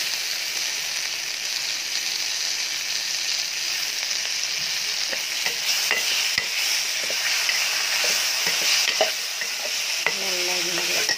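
Steady, close sizzling of chopped tomatoes and asafoetida frying in a pan for kuzhambu, with occasional light stirring and scraping sounds and no talking.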